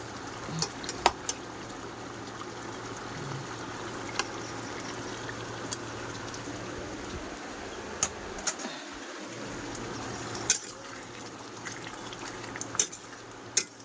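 Papaya curry simmers gently over a low flame, giving a faint, steady bubbling hiss with scattered small pops and an occasional soft clink, heard up close with no talking.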